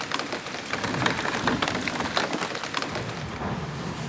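Heavy rain pours outside a cottage under renovation, a steady dense patter with scattered drips hitting surfaces nearby, continuous and without speech.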